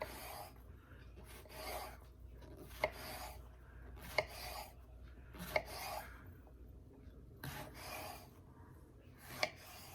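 A kitchen knife slices eggplant pieces lined up on a board into long strips, giving faint rasping strokes and a few sharp taps against the board in an uneven rhythm, close and quiet.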